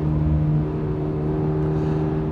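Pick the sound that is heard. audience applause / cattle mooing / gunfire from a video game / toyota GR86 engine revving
toyota GR86 engine revving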